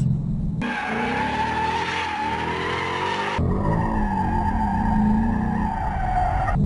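Ford Mustang GT tires squealing through a drift, a loud sustained screech that cuts off, then resumes with a shifting pitch as the car slides the other way, with engine roar underneath.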